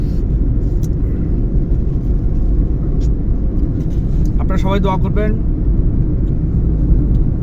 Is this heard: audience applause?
no